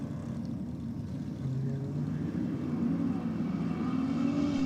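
A Holden Torana and an Audi RS3 at a drag strip, a low engine rumble building steadily, rising in loudness toward the end as the cars launch, fairly distant and without talk.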